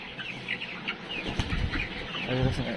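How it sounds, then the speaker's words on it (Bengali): Tiger breed chickens flap their wings and cluck at close range, with a burst of flapping midway and clucks scattered throughout, under a voice talking. "দেখেন কত সুন্দর মুরগি, টাইগার মুরগি কত সুন্দর"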